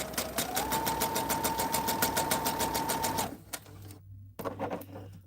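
A home sewing machine runs fast at a steady hum with rapid even stitching pulses for about three seconds, then slows and stops, leaving a faint motor hum and a few soft clicks.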